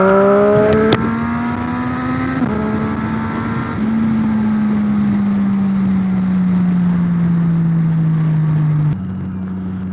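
A Triumph Street Triple motorcycle fitted with a LeoVince LV One exhaust idles and holds a steady engine drone with a slowly falling pitch, a quick rev blip early on, loud and close with no talking.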